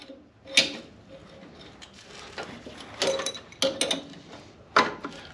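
An adjustable wrench works at the oil drain plug of a snowblower, producing scattered metallic clicks, scrapes and knocks of tool on metal, close and moderately loud, with short clanks spread irregularly and no talking.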